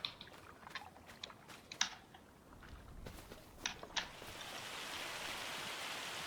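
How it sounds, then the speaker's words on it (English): Rain falls in the farming game Farming Simulator 25, starting as faint, scattered patter and building after a few seconds into a steady, soft hiss of rainfall with a few sharper taps, no voices. "it started to rain."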